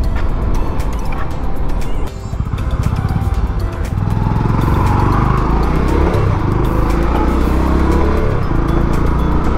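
A Bajaj Discover 125 motorcycle engine hums steadily at close range as the bike rides through a toll plaza, with continuous road and wind noise and the engine note shifting slightly midway.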